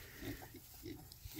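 Berkshire pigs and piglets on a homestead grunt softly in a brief, faint burst of low snorts close by.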